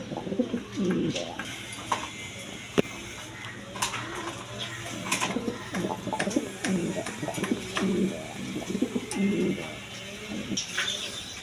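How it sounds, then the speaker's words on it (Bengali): Racing pigeons coo repeatedly in low, throaty bursts, close by, with scattered rustling, wing flutters and a few faint chirps around them. "এখানে এক পেয়ার রেসার কবুতর আছে"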